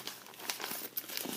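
Colored tissue paper being crinkled and handled in close, dense crackling bursts that run steadily with no voice over them.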